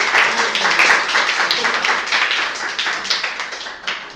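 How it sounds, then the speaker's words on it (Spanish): Applause for a guest speaker at a musicology seminar talk, a dense, steady clapping from a small audience that tapers slightly toward the end. "Un aplauso para ella, por favor."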